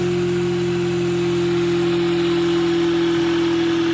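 A magnetic generator spins at 2800 RPM, making a steady, loud, continuous mechanical hum and whine with strong tonal drones that hold even throughout. No one speaks.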